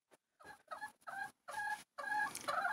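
Hens in a coop, white and red laying birds sitting on eggs, clucking in a few short separate bursts that grow slightly longer and louder toward the end, close and otherwise quiet.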